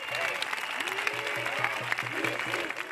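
Boğaziçi University students and some academics protest a rector's appointment, applauding steadily as a crowd under chanting voices, with a rhythmic low thump running through the dense clapping.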